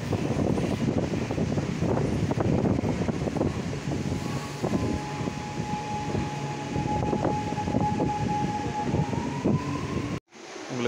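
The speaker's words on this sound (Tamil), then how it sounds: "அடுத்தது இந்த ட்ரெயின் வந்து ஆப்போசிட்டில் இருக்கிறது வந்து எடுக்க போகிறாங்க." A Chennai Metro train pulls out of the station with a steady, loud rumble and rail noise, a rising whine threading through, and an abrupt cut near the end; no one speaks.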